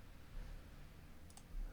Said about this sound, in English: Let's click off there.